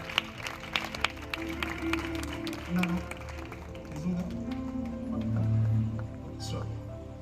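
A church congregation claps together at a revival meeting in Vijayawada, sharp scattered claps standing out early, then blending into steady clapping under music and voices.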